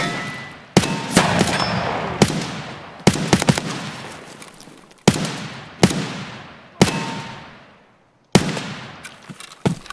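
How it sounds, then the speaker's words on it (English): Gunfire in Escape from Tarkov rings out in sharp, loud bursts of several shots each, every volley trailing into a long echoing decay, with brief silent gaps between the groups. "Where was that shooting at?"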